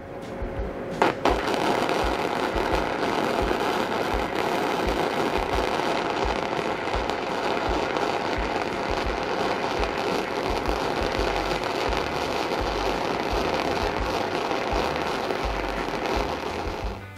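A Titanium Easy Flux 125 welder lays a flux-core weave bead, giving a steady, close crackling sizzle that runs unbroken for the whole stretch, loud and even, with no voices over it.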